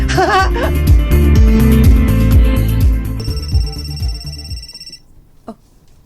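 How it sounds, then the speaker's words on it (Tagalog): A mobile phone rings with a bright electronic melodic ringtone, loud and close, playing repeated tonal phrases before a steady high beeping tone takes over and then stops abruptly. "ang cellphone ni Divino, mi bagting"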